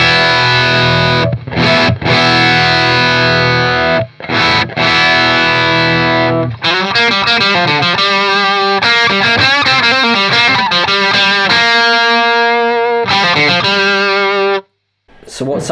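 Electric guitar through a Thorpy FX Veteran Silicon fuzz pedal into an amp, loud and saturated, with thick distorted chords that shift into sustained single-note and double-stop lines and brief pauses, played alone.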